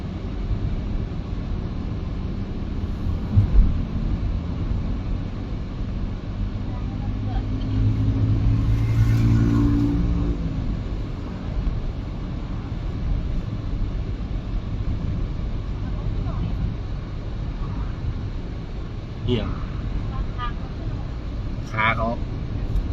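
Continuous engine drone and road rumble from a car driving along a road in Thailand, fairly loud and steady from inside the vehicle, with a swell in engine noise partway through and brief higher tones near the end.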